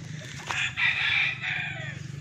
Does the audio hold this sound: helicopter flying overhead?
no